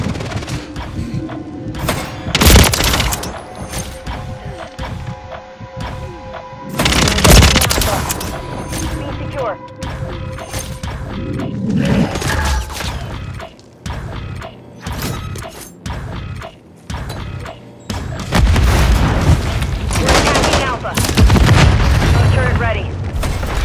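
Cruise missile strike in a Call of Duty match: heavy booming explosions and bursts of rapid gunfire with mechanical clanks, loud and close, repeating in waves over about twenty seconds, with game voice callouts mixed in.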